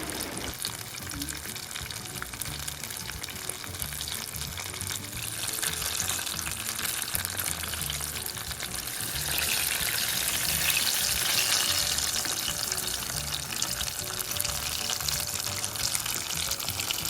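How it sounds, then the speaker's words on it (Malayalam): Chicken smoky cones frying in oil over a low flame, giving a steady, dense sizzle that swells louder midway and holds close up, with no talking over it. "ലോ ഫ്ലെയിമിൽ വെച്ച് നല്ലവണ്ണം ഗോൾഡൻ കളറിൽ ഫ്രൈ ചെയ്തെടുക്കാം"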